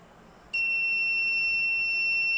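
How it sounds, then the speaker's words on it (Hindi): A robotics kit's delay-module buzzer sounds its countdown alarm, a sudden, steady high-pitched electronic tone that switches on and holds continuously. "सर्टेन अमाउंट टाइम के बाद ही आपका बजर रिंग कर रहा है, ये आपका है काउंटडाउन अलार्म"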